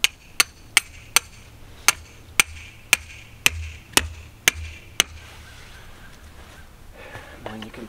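Stakes for a CLAM X-500 ice fishing shelter are hammered in during winter camping: a steady series of about eleven sharp, close metallic strikes over five seconds, then scuffing and handling sounds.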